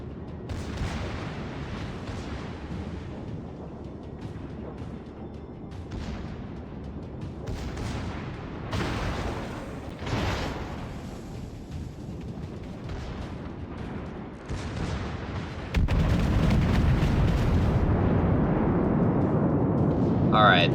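Battleship guns fire and shells explode in the naval combat game World of Warships, with rumbling booms and blasts under continuous battle noise that swells louder near the end.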